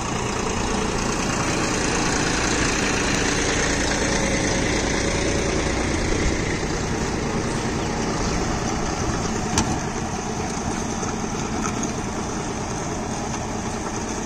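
A John Deere tractor idles steadily at close range, a loud, constant engine drone that holds without change for the whole stretch, with no voices over it.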